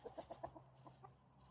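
Farm chickens, mostly young roosters, give a short run of quick, faint clucks in a rhythmic burst, then fall quiet against a low background hum.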